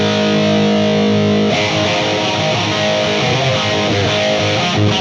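Heavily distorted electric guitar rings out loud and close, a sustained chord giving way to a dense, saturated riff with no voices.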